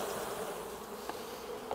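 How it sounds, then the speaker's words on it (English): A steady, low hum of many calm honey bees buzzing together at an open hive during a February inspection in Alabama, soft and continuous, with no voices present. "Just calm, happy bees, don't you think?"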